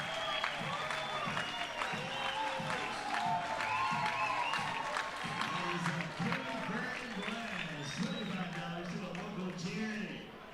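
Ballpark crowd cheers and applauds a solo home run in a Southern Maryland Blue Crabs vs. High Point Rockers game, a steady roar of claps and shouts lasting throughout, with a commentator's voice running over it.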